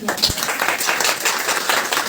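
Applause from an audience at a Hindi-language network marketing seminar, a dense, steady patter of clapping with a voice carrying over it.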